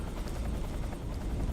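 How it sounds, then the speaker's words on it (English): Helicopter in the stealth action game Metal Gear Solid 3: Snake Eater, a steady loud rotor drone with a throbbing low rumble, continuous and close throughout. "I can jump in that anti-aircraft gun, and I can take out that helicopter."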